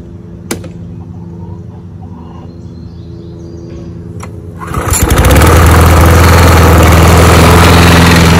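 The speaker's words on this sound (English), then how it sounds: "So as you guys can hear, the engine is a little worn out, but still works good." A worn John Deere JS20 lawn mower engine, first faint and ticking, then catching with a sharp start and settling into a loud, steady, close running drone that continues to the end.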